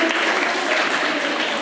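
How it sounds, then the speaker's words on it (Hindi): A short burst of dense clapping from a group at a school event, loud and even throughout. "तालियां बजा दो उनके लिए एक बार जोर से।"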